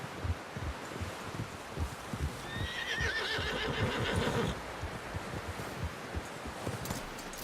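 Horse neighs and whinnies in Red Dead Redemption 2, a shrill, wavering call rising over steady clip-clopping hooves and rustling, with the hoofbeats continuing alone afterward.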